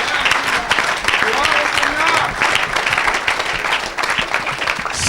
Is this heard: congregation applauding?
yes